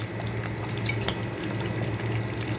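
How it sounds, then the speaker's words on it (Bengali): A spoonful of kewra water and rose water trickles into a pot of simmering chicken korma, a soft, close pour with faint bubbling and small drips throughout, no voices. "এখন আমি এই পর্যায়ে দিয়ে দিব এক চামিচ কেওড়া জল আর এক চামিচ গোলাপ জল"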